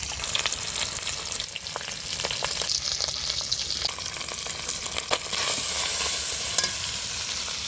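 Ground spices — turmeric, salt, chilli, coriander and cumin powder — fry in oil for a broccoli curry, a loud dense sizzle with frequent spatula scrapes and clicks against the pan throughout.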